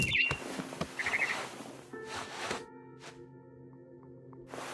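Barn swallow chirping in What Remains of Edith Finch, two brief high chirp bursts early on over a low game ambience with soft thuds and hums, then quieter tones.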